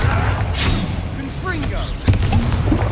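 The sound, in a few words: Bombarda blasting spell explosion, Hogwarts Legacy video game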